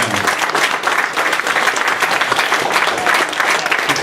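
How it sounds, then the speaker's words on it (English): Steady, dense applause from a convention audience at the Vanhoover Pony Expo 2019, filling the space loudly and evenly from start to finish. "A round of applause for our patrons and alicorns, everybody."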